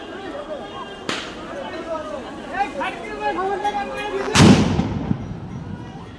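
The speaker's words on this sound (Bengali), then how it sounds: "একটু পর পরে কিন্তু সাউন্ড গ্রেনেড নিক্ষেপ করা হচ্ছে" Police-thrown sound grenades at a street clash at Dhanmondi 32, Dhaka: two sharp loud blasts, the second heavier and longer, cutting through excited crowd chatter and a reporter talking close by.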